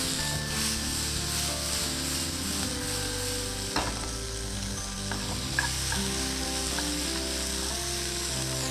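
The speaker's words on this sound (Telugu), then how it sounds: "స్టర్ ఫ్రై చేసుకోవాలి" Green bean noodles with sweet corn and a splash of vinegar stir-frying in a pan, a steady close sizzle under a constant hum of background music, with a few brief scrapes of the utensil along the way.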